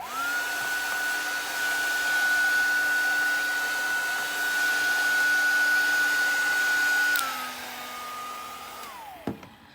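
A heat tool whirs steadily and loudly as it heat-sets ink on a mixed media art mask, holding a constant high tone for about eight seconds, then dropping slightly before winding down and cutting off with a click.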